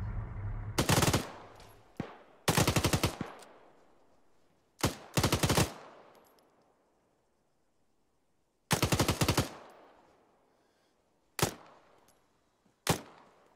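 Machine-gun fire in the military video game ARMA, a co-op milsim session: several loud, sharp bursts at irregular intervals, some long and some single shots, each trailing off in echo, with quiet gaps between.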